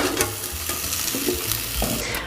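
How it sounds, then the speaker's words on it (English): Potato slices frying in a pan as they are stirred and tossed, a close, steady sizzle broken by quick scraping and clattering bursts, with no voices. "we're going to fry the potatoes for about 10 to 12 minutes"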